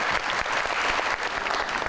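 A television show audience claps steadily and loudly, a dense continuous patter of applause with no voices standing out.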